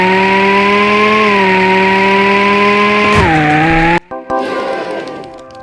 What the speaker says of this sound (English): Ferrari.